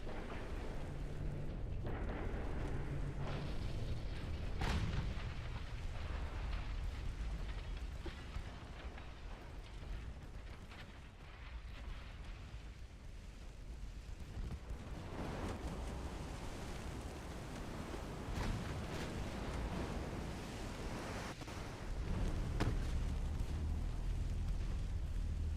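In a naval strategy game, a heavy cruiser sinks with deep rolling explosions and rumbling blasts, sustained low booms rising and falling over a long stretch, with a sharp crack partway through.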